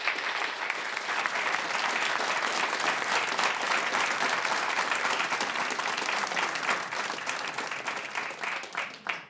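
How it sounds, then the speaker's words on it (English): Loud, sustained applause from a large audience, steady clapping that carries through without a break and thins slightly at the end. "I need to hear your applause"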